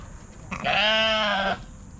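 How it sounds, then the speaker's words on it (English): A single Dorper sheep lets out one clear, nasal bleat lasting about a second, close by against quiet outdoor background. "So these are the sheep here."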